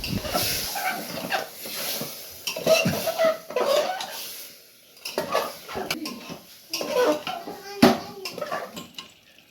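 Meat being stirred and browned in a pressure cooker with no water added, giving repeated close metal scraping and clinking of a utensil against the pot in irregular bursts, with soft sizzling underneath.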